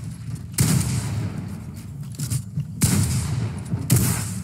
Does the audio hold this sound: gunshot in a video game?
yes